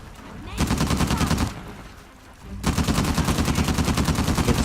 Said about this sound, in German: Jetzt schieße ich alles über den Haufen,